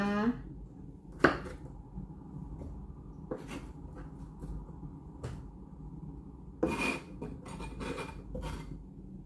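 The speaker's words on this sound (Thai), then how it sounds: "หั่นแตงกวาอยู่นะคะ" A knife slicing cucumber on a cutting board, a series of irregular crisp taps and scrapes close by, with pauses between cuts.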